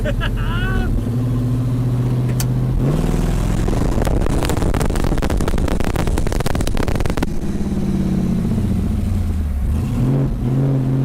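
An LS-swapped Buick car driving down the road under its own power, in need of transmission fluid: a steady engine drone that revs hard and loud mid-clip, then settles back, with people talking over it.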